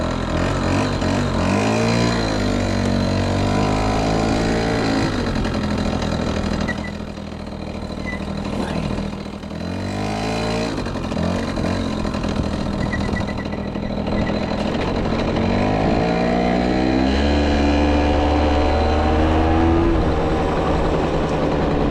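A 1983 Yamaha CV80 two-stroke moped engine putters and revs steadily throughout, rising in pitch as it rides off in gear, loud and close with a faint voice underneath.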